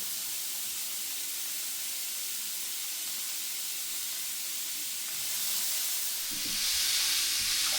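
Bell peppers hitting a hot pan for jerk salmon fried rice give off a continuous bright hissing sizzle, steady and close, swelling louder near the end, with no talking over it.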